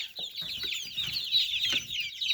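Young chickens of the Salmon Faverolles, Brahma and Barred Plymouth Rock breeds cluck and cheep continuously at close range inside a brooder, a dense chorus with scattered low clucks beneath steady high peeping.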